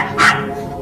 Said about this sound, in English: The gates of the underworld are guarded by my fierce, three-headed dog called Cerberus.